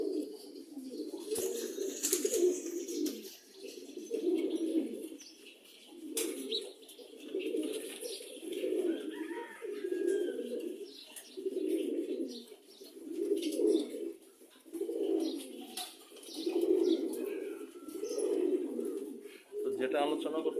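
Loft pigeons sunning themselves coo in a steady series of low, throaty, rolling calls repeating every second or two, close and clear, with occasional faint chirps in the background.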